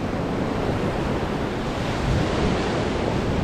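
Big, rough ocean waves breaking on a beach, a continuous loud roar of surf with wind noise buffeting the microphone, no voices.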